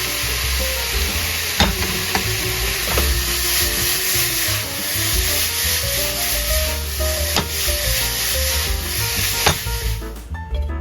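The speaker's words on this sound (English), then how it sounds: "Once the vegetables are stir fried, add the yakisoba and mix." Yakisoba noodles with vegetables and sauce being stir-fried in a hot pan, a continuous loud sizzle with sharp clicks and scrapes of the utensil tossing and mixing, cutting off abruptly at the end.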